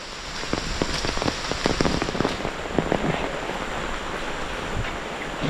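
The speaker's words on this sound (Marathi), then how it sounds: "पाऊस भयानक आहे" Heavy monsoon rain on a village footpath leading home makes a loud, constant downpour with many sharp drops striking nearby surfaces, and nobody speaks over it.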